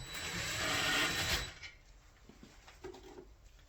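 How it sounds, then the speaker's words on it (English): Impact gun whirring briefly while starting bolts on a hitch mount, a dense burst for about a second and a half, followed by a few faint metallic clicks and handling sounds. "Got an impact gun, however we're not tightening it with this"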